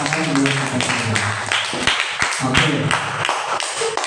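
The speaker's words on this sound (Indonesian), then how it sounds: "Oke, tepuk tangan buat kita semua." Group of people clapping hands at an indoor session, rhythmic claps mixed with voices and chatter, fairly close and moderately loud across about four seconds.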